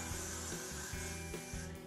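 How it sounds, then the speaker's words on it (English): Short hissing bursts of aerosol wig glue sprayed onto a wig cap, several quick puffs in a row, close and fairly quiet. "So I just spray it on"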